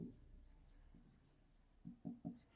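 A pen or pencil writes math on paper in short, faint scratchy strokes, with a few quick close marks toward the end.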